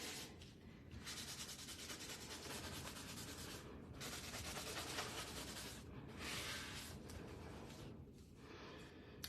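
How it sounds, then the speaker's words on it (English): Towels buffing embossed leaves on an inked paper thank-you card, a continuous soft rubbing friction with brief pauses, close and quiet. "I'm just going to buff those embossed leaves just to get any excess ink off."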